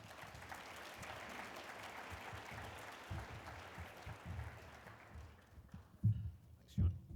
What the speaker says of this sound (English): So let's please join him with welcome him with a great round of applause.